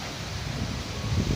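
Strong wind buffets and rushes past the microphone, a continuous low rumbling roar with gusty swells and no voices.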